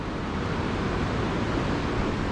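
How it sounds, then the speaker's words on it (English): Hot spring water at Manikaran boils and churns in a steady, dense hiss and roar, continuous and close with no pauses or voices. "As you can see here guys, the hot boiling water came out. This is literally boiling"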